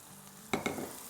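Washed moong dal is tipped into a hot pan with two quick thuds and is then stirred, followed by a soft, faint sizzle and scraping.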